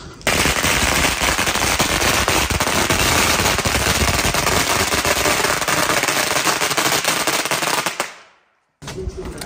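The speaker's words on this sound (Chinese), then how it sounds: "我还打鞭炮呢" A long string of firecrackers set off outdoors at a festive gathering, a loud dense rapid crackle of bursts lasting about eight seconds before cutting off abruptly, with faint sound resuming afterward.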